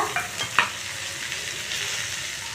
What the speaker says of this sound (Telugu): ఫ్లైమ్ని సిమ్లో ఉంచుకొని ఫ్రై చేసుకోవాలి